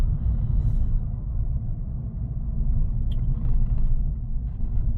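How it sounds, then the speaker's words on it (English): An electric car rolling down a long, steep hill in B mode engine braking gives a steady, close cabin rumble of road and motor noise, unbroken and without speech. "I'm now going to put the car into B mode, which is your engine braking."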